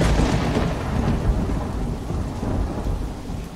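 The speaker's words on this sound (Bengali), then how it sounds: "সেদিন রাতে খুব জোরে বৃষ্টি হচ্ছিল, বিদ্যুৎ চমকাচ্ছিল" Heavy nighttime rain pours in a dense, steady wash while low thunder rolls and rumbles underneath, with no voices.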